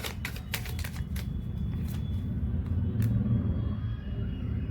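Tarot cards are shuffled and pulled by hand, giving a run of quick crisp riffling snaps and flicks in the first few seconds over a low steady rumble, then a final single snap, with no talking.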